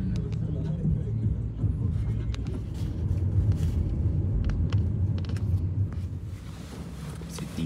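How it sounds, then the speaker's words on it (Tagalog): Road traffic rolls past with a continuous low rumble of car engines and tires, near and fairly loud, with scattered clicks and knocks on top as people chat over it. "Traffic."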